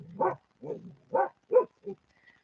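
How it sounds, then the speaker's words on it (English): Dogs playing and barking, five short muffled barks in an uneven rhythm, moderately close and heard alone. "Can you hear the dogs?"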